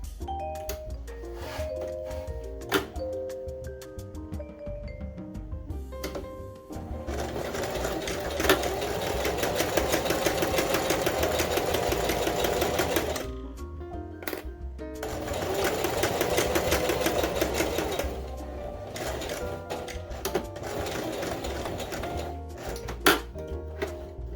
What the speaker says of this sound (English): we are going to twin needle stitch along the right side of the fabric